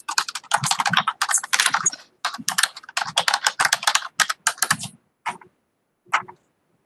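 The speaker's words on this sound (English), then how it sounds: "someone too that's typing may want to mute their mic" Rapid keyboard typing picked up by an open microphone during an online advisory board meeting, bursts of clicking keystrokes, fairly close, with short pauses and a couple of isolated taps near the end.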